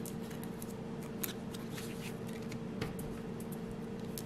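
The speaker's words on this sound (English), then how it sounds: "I'm gonna fold up the papers" Paper slips being folded by hand at close range, a steady papery rustle and crinkle with a couple of sharper creases over a constant low background hum.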